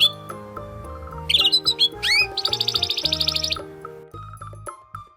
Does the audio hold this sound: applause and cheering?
no